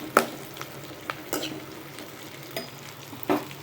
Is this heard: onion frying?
yes